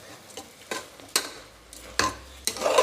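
Washed rice is stirred with masala in a pan for tomato pulao, heard as several distinct scraping strokes of a spoon against the pan, close and moderately loud, with faint sizzling between them.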